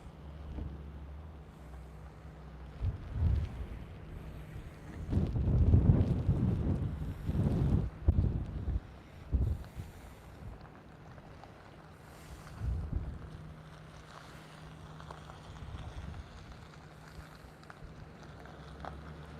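Gusty wind buffets the microphone outdoors during a coastal flood at Lewes, Delaware, with rumbling bursts that peak mid-clip and then ease into a steady low roar, no talking.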